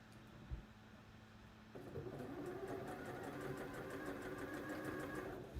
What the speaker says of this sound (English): Start stitching at the back of the neckline.